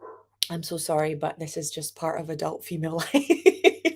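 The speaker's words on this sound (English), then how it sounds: "You can hear my mum's dogs in the background" Dogs bark and yip in the background of a home while someone talks steadily in front of them. The barking is loudest in a short burst near the end.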